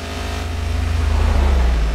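A BMW M5 E60 with a naturally aspirated V10 revving hard in the City Car Driving game, a loud, steady engine roar that climbs in pitch and pulses throughout, close and alone.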